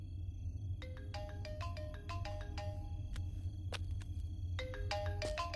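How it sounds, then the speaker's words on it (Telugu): A mobile phone ringtone plays a bright, repeating melodic chime at moderate volume over a low background hum, its notes stepping up and down in quick phrases. "Sir me phone మోగుతోంది."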